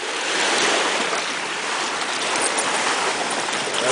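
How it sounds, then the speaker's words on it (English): Large wave rolling in on a lake while a dog swims, a steady broad wash of water and surf noise with some wind, loud and continuous with no voices. "Oh, got the big wave coming."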